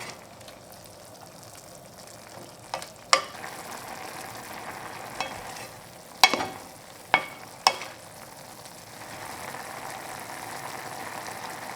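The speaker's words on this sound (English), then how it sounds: "occasionally I'm going to stir this with my wooden spoon until all this brine is just evaporated" Black beans braise in brine with rice syrup under a low, steady bubbling sizzle, and a wooden spoon knocks against the pot in several sharp, isolated taps.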